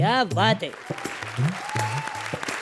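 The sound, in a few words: applause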